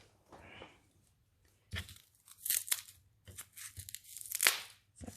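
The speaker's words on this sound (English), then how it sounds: "It's actually quite satisfying even cutting these up. It makes a lovely noise, crunchy noise." Scissors cut crunchy little pieces meant for slime, giving close, crisp snips and crunches in irregular bursts with quiet gaps between them.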